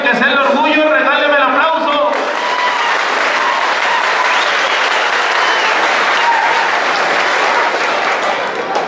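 Loud, sustained applause from a crowd fills the clip after a brief stretch of voice at the start, steady clapping continuing to the end.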